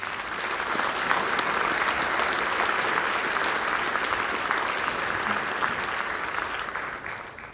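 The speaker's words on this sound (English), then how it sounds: "One final round of applause." A school auditorium audience at a National Honor Society induction ceremony applauds steadily and loudly throughout, with dense sustained clapping that fades slightly toward the end.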